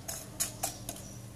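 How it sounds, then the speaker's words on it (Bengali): Dried chopped garlic and ginger drop into a spice mix in a pan, making four quick, light clinks and taps spaced evenly over a moment, close and fairly soft. "এবার আমি দিয়ে দিচ্ছি রসুন আর আদা"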